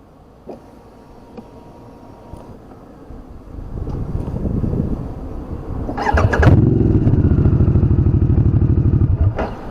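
A Harley-Davidson Sportster S with loud Cobra aftermarket exhausts starts up after some clattering handling, settling into a deep, throbbing idle that rumbles loudly and close, with wind buffeting the microphone.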